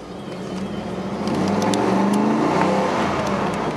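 A 1993 Cadillac Allante Pininfarina convertible accelerates hard, its engine rising in a steady, close roar that swells over a few seconds with wind and road noise underneath.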